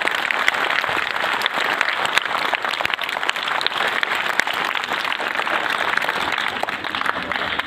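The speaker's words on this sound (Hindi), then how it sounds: "आप लोगों ने जरा ताली बजाई एक बार" An audience at a school science and art exhibition in Mau claps in steady, dense applause that runs loud and continuous throughout without talking.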